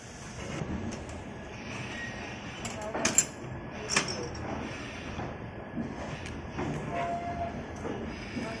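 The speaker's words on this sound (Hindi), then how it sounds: "इसी के साथ हमारी ट्रेन चल चुकी है।" The Jammu Mail train pulls out of Ludhiana Junction, heard from inside as a soft steady rumble with faint clanks and rattles of the carriage, while voices talk quietly nearby.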